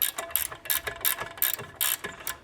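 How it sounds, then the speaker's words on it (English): A ratchet wrench clicks in short bursts while snugging a 21 mm front strut nut on a 2019-present BMW G20 330i, close and crisp, with brief pauses between strokes and no talking. "Just gonna see how far I can get this nut snugged up before I have to counter hold."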